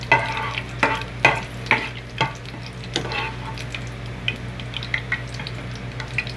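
Ingredients are stirred and fried in hot oil in a pan for Hyderabadi chicken curry: close, rhythmic scraping and clinks of a spatula over a steady, soft sizzle.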